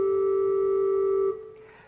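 Two cathedral organ notes sound together as a steady sustained tone with a slow wavering pulse from their beating, then cut off and fade into room reverberation.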